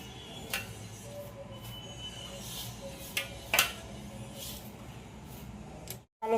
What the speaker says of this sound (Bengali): দইটা। এবার ভালো করে মেলাবো।